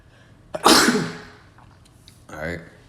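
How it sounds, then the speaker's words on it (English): A man lets out a single loud, close sneeze with a sharp burst and trailing breath, followed a moment later by a brief, softer throaty exhale. "It's lucky I gotta sneeze."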